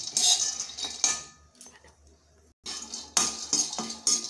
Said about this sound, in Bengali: এই যে আমি চিনে বাদাম কটা একটু ভেজে নেব